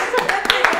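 Short burst of audience applause at a Kyrgyz couples' game show in Bishkek, scattered hand claps coming through, with a voice talking over it.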